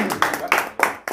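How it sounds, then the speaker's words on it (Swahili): An audience at a gathering claps to thank God, a few loud, evenly spaced claps close by, with voices talking over them. "so tumpigie Mungu makofi"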